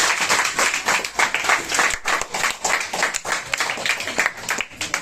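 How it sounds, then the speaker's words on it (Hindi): A crowd claps loudly and steadily during a children's day card distribution at a girl's home, many hands in dense overlapping applause with no talk. "एक बार जोरदार तालियां हो जाए"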